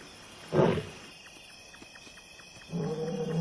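A male lion lets out a deep roar, a short loud burst followed by quiet insect clicks, then a low rumbling grunt toward the end, fairly near in a quiet night setting.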